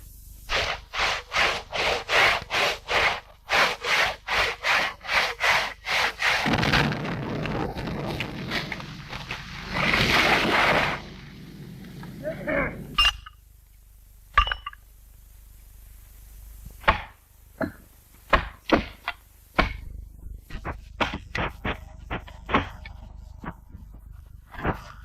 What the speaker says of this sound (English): Wedges go into the saw cut to keep the gap open and to persuade the trunk toward